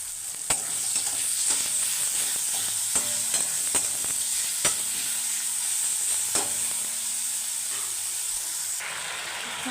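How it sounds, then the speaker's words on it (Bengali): Chopped tomatoes and salt go into a hot frying pan, raising a loud, steady sizzle and hiss with scattered clinks and scrapes of stirring throughout, and no voices. "এখন দিয়ে দেবো কুচিয়ে রাখা টমেটো আর দিয়ে দিচ্ছি পরিমাণ মতো নুন"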